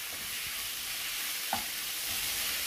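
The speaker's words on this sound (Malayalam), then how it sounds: "അപ്പം നമ്മുടെ മസാല നന്നായിട്ട് വഴന്ന് കിട്ടിയിട്ടുണ്ട്." Masala for masala dosa sizzling and being stirred in a pan, a steady hiss of frying with a single sharp scrape of the spoon against the pan midway, close and continuous.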